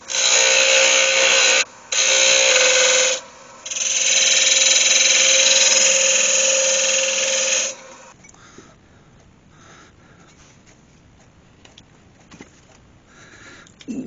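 A power tool hollowing out a walnut vase on a wood lathe, a loud harsh grinding whine in three bursts with short pauses, then it stops, leaving quiet scraping and handling noises.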